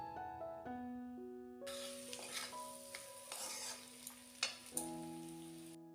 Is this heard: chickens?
no